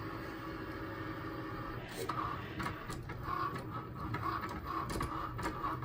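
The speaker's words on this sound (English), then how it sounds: "now putting that through my Cricut Maker to cut" A Cricut Maker cutting machine works through material with a steady mechanical hum, punctuated by short whirring carriage movements and clicks as the blade travels, close by and without speech.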